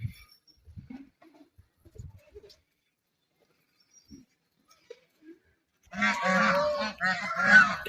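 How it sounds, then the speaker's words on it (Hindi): A flock of ducks calls in loud, overlapping honking quacks near the end, after a stretch of sparse, faint calls and near silence outside a temple in Ganeshpuri. "हाय डक्स है, इतने सारे लाइन से चलते हैं ये लोग, क्वाक क्वाक क्वाक क्वाक करके"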